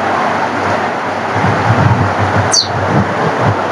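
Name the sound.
rain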